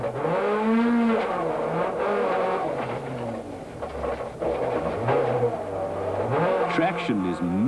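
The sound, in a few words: rally car sliding through a stage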